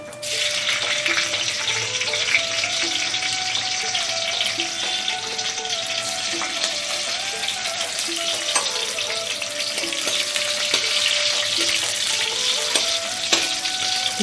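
Raisins fry in ghee in a pan with a steady, close, even sizzle that holds for the whole stretch, with faint stirring scrapes underneath and no voices.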